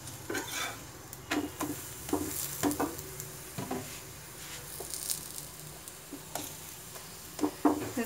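A green peas paratha cooks in refined oil on a pan, a faint crackling sizzle with frequent light taps and scrapes of a spatula pressing and turning it.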